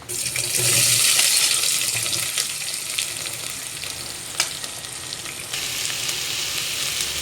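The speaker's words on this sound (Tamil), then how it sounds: "நான் ரெண்டு பெரிய வெங்காயம் கட் பண்ணி வச்சுருக்கிறேன் சேர்த்துக்கலாம்" Chopped large onions fry in hot oil with spices for a mushroom gravy, a loud continuous sizzle that swells early then settles into a steady hiss, with a brief sharp clink midway.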